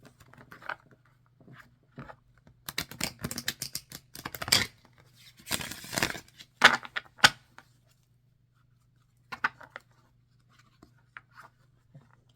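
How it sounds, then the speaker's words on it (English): A linen-finish oracle card deck being shuffled by hand, bursts of crisp riffling and flapping cards in short clusters with pauses between, close and fairly quiet over a low steady hum. "And this thing is a pure dream to shuffle."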